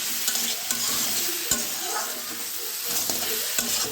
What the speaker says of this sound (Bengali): সয়াবিন আলু একসাথে কষিয়ে নিলাম,